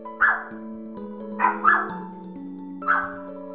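Three or four short, clipped dog barks from the video game Undertale pop out over a plinking game melody, spaced unevenly, loud and close.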